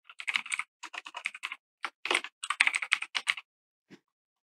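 Quick bursts of keystrokes on a computer keyboard while renaming a 3D material, rapid clustered taps with short pauses, then a single last key press; close and clear, with no voices.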